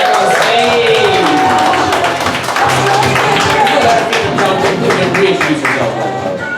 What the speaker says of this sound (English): Round of applause for our adventurers back on stage